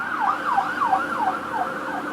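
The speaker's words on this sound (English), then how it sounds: "There's an ambulance that just went by." An ambulance siren wails in a steady rising-and-falling pattern, loud and close as it passes by, with road traffic rumbling underneath.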